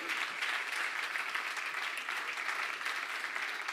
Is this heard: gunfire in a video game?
no